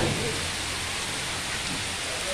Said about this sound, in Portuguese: E olha aí a chuva aqui nas flecheiras.